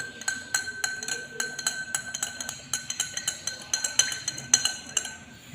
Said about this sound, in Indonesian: Ini garam kita masukkan ke air. Ini kita aduk.